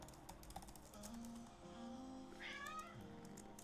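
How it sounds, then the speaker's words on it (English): A cat meows close by indoors, a few short plaintive calls over quiet keyboard typing in a home workspace. "Oh my god, cat."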